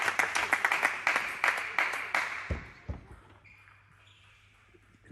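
A New Zealand crowd at a table tennis match in Christchurch claps in a rhythmic, steady beat, loud and close for the first half, then fades to a quieter pause with a few thuds.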